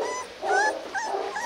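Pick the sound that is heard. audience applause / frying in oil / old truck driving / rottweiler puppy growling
rottweiler puppy growling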